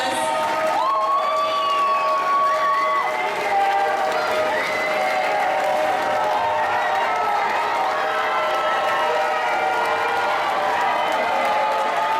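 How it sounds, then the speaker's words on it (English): Sustained applause with cheering from an audience at a fifth grade promotion ceremony at a charter school, a dense, steady wash of clapping lasting throughout, with scattered whoops and voices. "give them a big round of applause"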